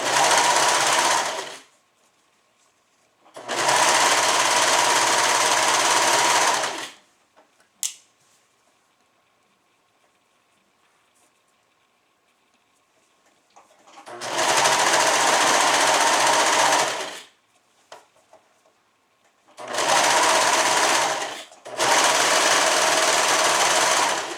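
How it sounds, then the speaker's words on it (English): A serger runs through a suit seam in four loud, steady bursts of whirring stitching, each lasting a few seconds, separated by near silence with a couple of faint clicks. "Serging is so simple."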